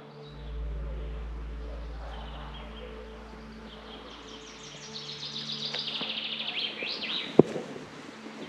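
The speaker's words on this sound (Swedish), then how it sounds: "Hör ni fåglar?" Birds singing outdoors beside a rocky hillside, faint scattered chirps and tweets building in the second half over a low steady hum, ending with one sharp click.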